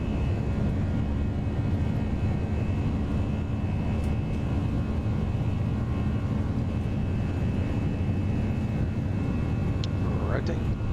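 An A320 on its takeoff roll in the X-Plane 11 simulator, snowing at Denver, with a steady loud jet engine roar and rumble throughout and a voice speaking briefly over it near the end.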